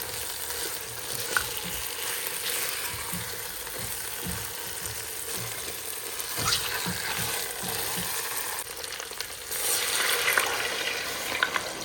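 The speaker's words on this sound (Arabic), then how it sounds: "وهسه هنا نحمسها حمسة بسيطة" Kabsa ingredients being lightly sautéed in a home kitchen pan, giving a steady, moderate sizzle with occasional stirring scrapes and clinks, and a slightly louder burst of frying near the end.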